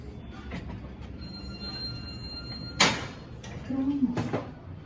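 Otis Gen2 elevator doors in Terminal E of Boston Logan Airport slide with a sharp clunk and rumble midway, followed by a brief squealing glide, with faint tones over low background hum.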